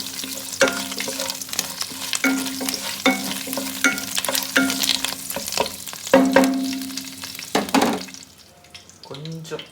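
Mutton for biryani sautés in a pan, with a steady sizzle broken by repeated scraping stirs of the spoon, close and fairly loud, easing off near the end.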